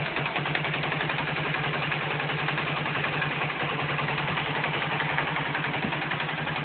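A small engine fitted with a spark plug enhancer and a smaller dry cell runs steadily, a continuous mid-pitched idling drone with even rapid firing pulses and no talk.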